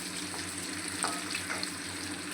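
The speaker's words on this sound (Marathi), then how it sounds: "चांगलं असं तळून घ्यायचं." Cabbage and chana dal sizzle steadily in oil in a pan while cooking a bhaji, a soft continuous crackle with a few faint pops and a low background hum.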